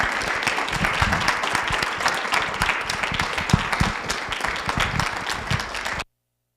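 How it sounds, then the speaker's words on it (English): Sustained applause from an audience at an artist talk, dense steady clapping for about six seconds before it cuts off abruptly. "I'm going to encourage everyone to give Anong another round of applause."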